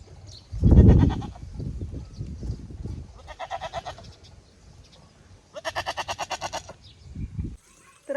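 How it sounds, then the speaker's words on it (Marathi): Goats bleating in a farm field in rural Maharashtra, several separate loud bleats and calls in bursts, with quieter rustling and low sounds between them. "तर आलेले आहेत शेळ्या आपल्या मळ्यात"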